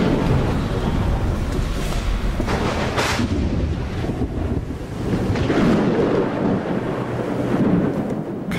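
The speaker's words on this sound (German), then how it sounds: "Ein mächtiges Unwetter sollte Drusus und seine Legionäre zur Umkehr zwingen." A powerful thunderstorm with a steady roar of wind and rain and low, rolling thunder rumbles that swell and fade throughout, loud and close.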